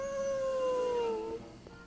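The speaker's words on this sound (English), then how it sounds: "I can howl at the moon!" A single long, clear howl from a dog in the Back to the Future video game, holding a steady pitch and then sliding down before fading out, with no talk over it.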